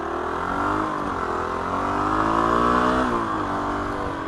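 A Kawasaki KLR 250 motorcycle, carburetor freshly rebuilt, revs hard while being ridden, its engine note climbing and falling through the gears, loud and close with wind noise; no speech.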